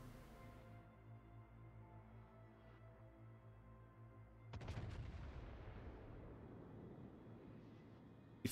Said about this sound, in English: Hindi just puts too many shells down range